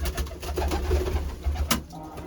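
Pigeons in a loft cooing, soft low throaty rolling coos repeating close by across the moment, with a sharp brief rustle or flap near the end.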